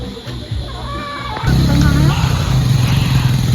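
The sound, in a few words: motorcycle passing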